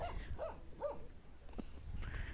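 A dog barking in the countryside, heard as three close, medium-loud barks in a steady rhythm, then a fainter yip, over a constant low background rumble.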